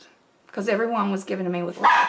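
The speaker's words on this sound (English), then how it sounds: "And sorry for my dogs barking." House dogs bark in the background while someone talks over them, the yaps partly masked by her voice.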